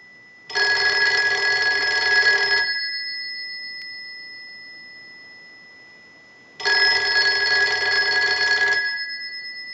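A Western Electric 302 rotary telephone bell rings in two loud metallic bursts about two seconds long, separated by a pause of silence as a test ring cycle is sent during repair.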